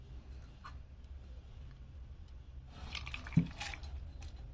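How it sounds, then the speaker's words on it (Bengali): Chushi pitha slid into a pot with cardamom and gently stirred, a soft liquid squish and faint drips building midway, with a brief knock of the spoon against the pot near the end. "এইভাবে চুষি পিঠেগুলো সব ঢেলে দিয়েছি, দিয়ে এইভাবে আস্তে করে একটু নেড়ে দেবো"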